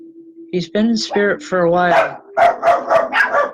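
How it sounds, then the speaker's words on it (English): Dogs bark indoors during a home spiritual reading: someone talks first, then a run of five or six sharp, loud barks follows at a quick, uneven rhythm close by. "I apologize for the dogs again."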